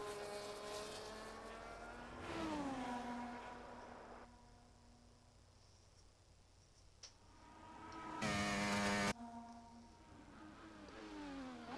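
High-pitched race car engine in a racing video game lapping the Spielberg circuit in Austria, revving up through gears with rising and falling whine, sharp shift drops, and a loud surge near the end.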